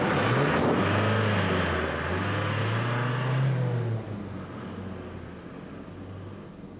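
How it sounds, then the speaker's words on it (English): A car engine revs steadily with rising and falling pitch, then the engine note drops away as the vehicle pulls off, leaving a low rumble. "Get the engine running!"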